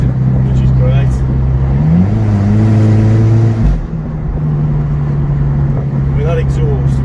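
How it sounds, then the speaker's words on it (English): A Fiat Coupe's exhaust burbles and rises through a rev, with the engine tone climbing then dropping back to a steady idle, loud and close, while people talk over it. "That exhaust makes all the right sounds"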